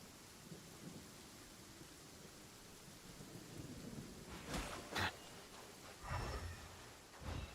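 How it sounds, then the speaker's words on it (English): Heavy rain hisses steadily in a video game while thunder cracks and rumbles several times in the second half, the bursts fairly close and strong against the constant downpour. "This heavy rain must be quite an inconvenience for you."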